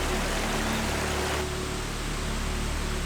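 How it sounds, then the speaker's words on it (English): A Swiss waterfall roars as a dense, steady, broadband rush heard from nearby, continuous and even throughout. "So the waterfall is literally just behind me now."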